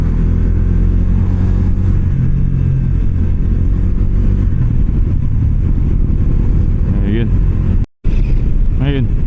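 A Kawasaki D400A motorcycle rides along on a misty, drizzly road, its engine droning loud and steady close by, rising in pitch near the end with a brief cut in the sound.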